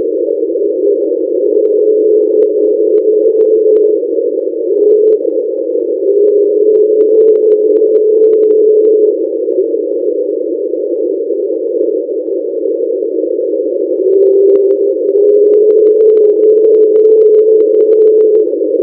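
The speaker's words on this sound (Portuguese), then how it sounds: "Esse som possivelmente veio de uma grande montanha de gelo em contato com o fundo marinho no Mar de Ross, na Antártida." A hydrophone recording from the Ross Sea, Antarctica, of a large iceberg scraping the seafloor: a steady, droning tone in a narrow band, loud and continuous with slight pitch wavering, no other sounds.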